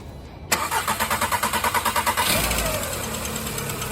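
A 2011-2017 VW Jetta 2.0 liter engine, just fitted with a new camshaft position sensor, cranks in a quick rhythmic series of about a dozen pulses, then catches and settles into a steady, close idle.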